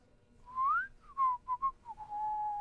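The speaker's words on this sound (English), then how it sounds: "Your innocent whistling doesn't fool me." A person whistles a short, wavering tune alone, with sliding notes, a few brief chirpy bursts, and a sustained note at the end.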